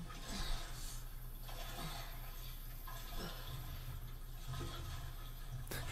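Water sloshes and splashes steadily as a character swims through it in The Last of Us Part II, a continuous churning wash with periodic surges, heard alone without talk.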